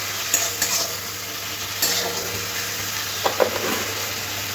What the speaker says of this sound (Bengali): সব কিছু মশলা ভালোভাবে একটু মিশিয়ে নিতে হবে